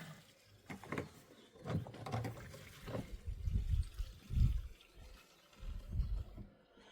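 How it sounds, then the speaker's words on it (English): Petrol dripping from a pipe on an old Bamford stationary engine, heard as soft, irregular wet trickles and drips close by, with quiet handling noise between them. "I see petrol dripping."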